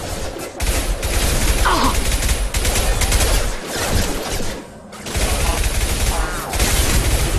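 Weapon fire in Mass Effect 2 sci-fi combat, dense bursts of rapid gunfire and blasts that continue with short pauses, loud and close, while voices speak over it.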